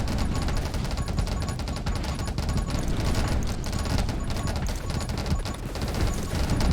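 Rapid, continuous sniper gunfire from the survival shooter game 20 Minutes till Dawn, a dense stream of sharp repeated shots with impacts layered over a constant din, loud and unbroken.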